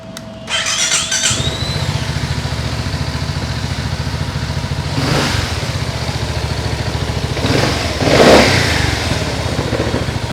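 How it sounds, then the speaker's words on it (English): A BMW C400GT scooter engine starts up and runs with a low, bassy idle, revving up twice in short bursts before settling back to a steady hum. "it does not really sound too different from a regular scooter here, but it's got more bass"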